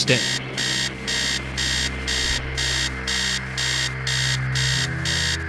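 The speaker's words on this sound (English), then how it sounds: "upstairs, the sound of an alarm clock blaring" An alarm clock blaring upstairs in the horror game Stories Untold gives a loud, rhythmic beeping of about nine rapid electronic pulse bursts in steady succession over a low ambient drone.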